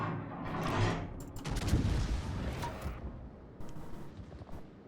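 Rear turret guns of a warship firing in World of Warships, heard as loud booming gunfire blasts with rumbling tails that roll on through the stretch, no talk over them.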